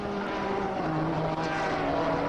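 Niki Lauda's Formula 1 car at the 1984 South African Grand Prix roars steadily, a loud broadband engine drone with slowly drifting tones that holds for the whole moment, and no voices over it.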